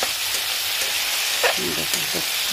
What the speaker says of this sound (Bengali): মশলাটা আমার ভাজা হয়ে গেছে, পুরো তেল ছেড়ে দিয়েছে